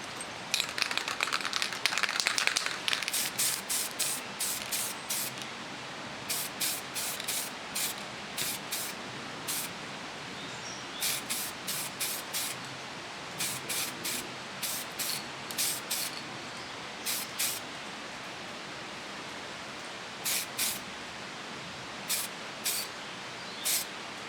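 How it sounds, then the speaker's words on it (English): An aerosol can sprays paint onto metal TV bracket stretcher plates in a long opening burst, followed by many short, sharp hissing spurts in an uneven rhythm, close up and with no talking. "then we'll take them outside and give them a spray"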